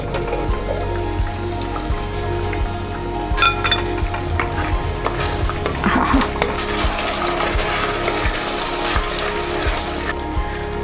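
Mutton sizzles steadily in a pot for mutton masala, with a continuous bubbling fry and occasional louder scraping and clatter over it.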